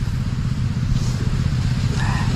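A motorcycle engine drones steadily and close by, a loud low rumble with rattling texture that persists throughout.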